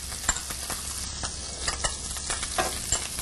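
Minced shallot and garlic sizzle steadily in melted butter and olive oil in a pan, a close, continuous crackle with occasional sharper pops and stirring scrapes, no talking.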